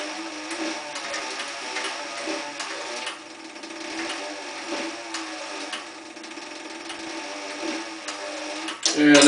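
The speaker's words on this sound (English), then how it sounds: "I'm going to back stitch that just a couple just to lock that stitch down." Stitching machine back stitching a leather holster, a close, continuous mechanical whir with a rapid rhythmic needle beat, ending in a louder clunk.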